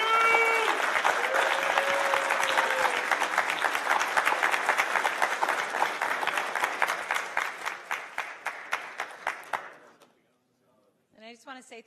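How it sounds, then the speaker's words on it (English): A board meeting audience of a transportation authority gives a long round of applause for the Transit Patrol. Dense clapping with a few voices gradually thins into scattered individual claps, stops, and a voice starts speaking. "Please join me in giving both Juan, Michael, and all of the Transit Patrol a big round of applause."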